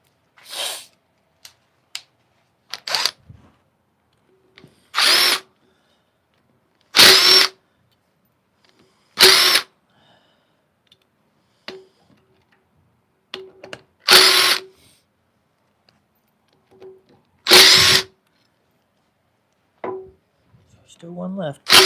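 A power drill backs screws out of a woodturning lathe faceplate in short, loud bursts of whirring spaced a few seconds apart, with quiet handling clicks between and a little talk.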